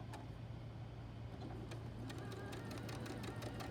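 A sewing machine runs continuously while stitching a seam, producing a steady, faint mechanical hum with a rapid rattling needle rhythm throughout.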